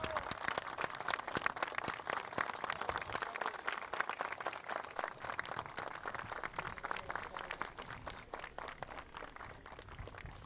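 Crowd applause at an outdoor public event with Peru's president in the Piura region, dense steady clapping lasting throughout, moderately distant and even.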